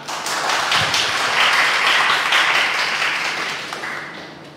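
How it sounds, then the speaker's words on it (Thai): An audience at an orientation for new lawyers breaks into warm applause, a loud dense wash of clapping that swells and then gradually fades over a few seconds. "ขอเสียงปรบมือ"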